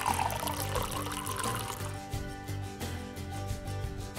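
Spring water pouring steadily into a container, a continuous close splashing stream that settles into a fuller, lower fill sound as it goes on.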